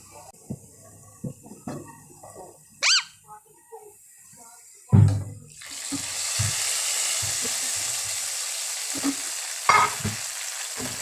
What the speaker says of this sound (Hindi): बघार बन रहा है, प्याज लाल कर रहे हैं